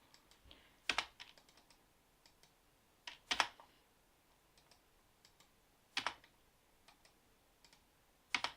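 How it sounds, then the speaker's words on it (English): A computer keyboard's delete key is pressed in a few quiet, spaced clicks, with faint light tapping between them. "So I'm just pressing the delete button to get rid of all of these."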